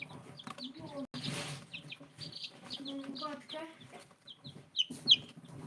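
Chickens on a farm cluck repeatedly in short irregular bursts close by, with someone speaking briefly among them and a sharper squawk near the end.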